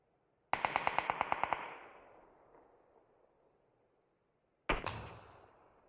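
AWP sniper rifle fire in a PUBG match: a sharp rattling burst with rapid pulses that decays over a second, then after a pause a second loud crack, both standing alone with no talk.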